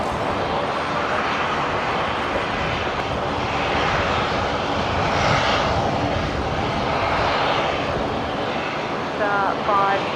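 A Qantas jet from Melbourne lands at Brisbane airport, its engine roar steady, loud and continuous throughout, with a brief faint sound near the end.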